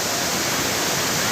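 A waterfall at Kaiwai near Shogran in Pakistan sends up a loud, unbroken roar of rushing water that fills the whole moment evenly, with no voices standing out.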